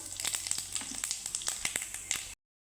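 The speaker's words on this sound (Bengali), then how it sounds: "দিয়ে দিব ফোড়নে পাঁচ ফোড়ন" Panch phoron five-spice hits hot oil in a pan after lentil badi were fried in it, giving a close, steady sizzle dotted with sharp crackling pops until it cuts off abruptly.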